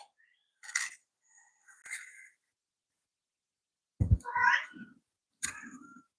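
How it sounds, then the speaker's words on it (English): A house cat meows and whines in a few separate bursts, wanting to be let into a room, heard alone with quiet gaps between the calls. "my cat wants to get in somebody's room. I'm like, who's whining? It's my cat."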